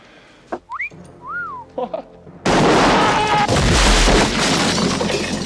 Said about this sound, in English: Oh, most appropriate. A wolf whistle.